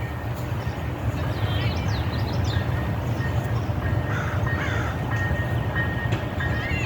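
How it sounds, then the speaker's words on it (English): A steady, heavy rumble of a train rolling past a park, continuous throughout, with faint bird calls above it. "Here comes our train."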